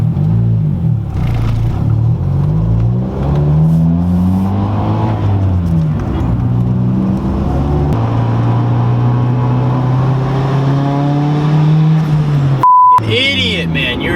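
A turbocharged car engine revs under boost while driving, a close, loud drone that climbs and falls in pitch through several pulls, with a brief electronic beep near the end.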